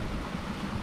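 Ocean waves heard from a sailboat at sea, a low steady wash mixed with wind rumble, faint and brief.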